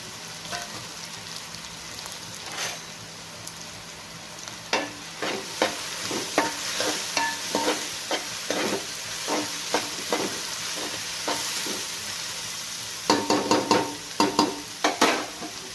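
Ingredients fry in a pan for an egg and drumstick curry, a steady sizzle broken by a spoon scraping and stirring in rhythmic bursts, close up with no talking.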